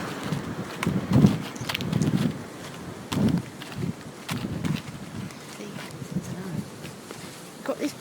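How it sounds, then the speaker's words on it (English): Gusty wind buffeting a microphone on an outdoor walk, low rumbling bursts that come and go over several seconds beneath faint talking and footsteps. "Sorry if it's windy"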